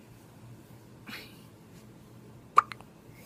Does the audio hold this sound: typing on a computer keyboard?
no